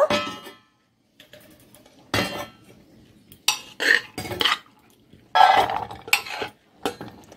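Boiled chana dal scraped and poured from a pressure cooker into a metal bowl, with several separate clinks and scrapes of a spoon against metal, close by and quiet, between stretches of silence.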